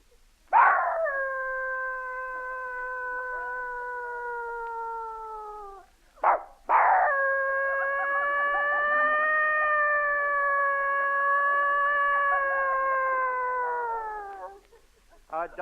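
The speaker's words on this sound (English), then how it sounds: "A dog serenade." Dogs howling as a 1936 radio sound effect: two long, steady, rising-and-falling howls, loud and close, with a brief break between them and no talk over them.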